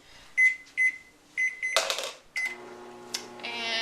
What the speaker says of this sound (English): now we're going to stick it in the microwave for,